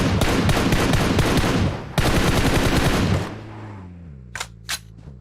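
Rapid bursts of distant gunfire from a PUBG Mobile match crackle densely for about three seconds, pause briefly, then resume before fading to a low engine-like hum with two short sharp bursts near the end.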